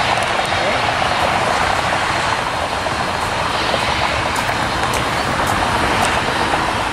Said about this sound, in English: here comes another plane coming into LAX